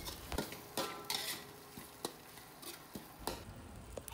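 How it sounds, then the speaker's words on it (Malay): A spatula stirs seasoning, salt, sugar and oyster sauce into bitter gourd in a frying pan. There is a light sizzle throughout, with repeated scraping and clinking strokes against the pan at an uneven rhythm. It is close and fairly quiet, with no talk. "Masukkan juga sos tiram, teruskan kacau sehingga sebati."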